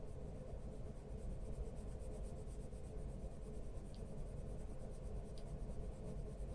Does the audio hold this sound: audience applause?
no